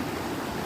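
River water flows through one section of a river, a steady, dense rushing wash heard close and alone, with no talking.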